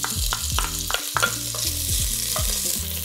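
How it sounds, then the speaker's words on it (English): Pancetta sizzling in olive oil in a pot, a dense close crackle with repeated stirring knocks and scrapes against the pot, steady and loud with no voices. "And then we'll get all the pancetta in."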